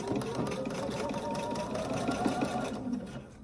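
A sewing machine stitching down the seam on the pocket of an Ankara fabric skirt, a fast steady mechanical whirring chatter running close and continuous for several seconds before slowing.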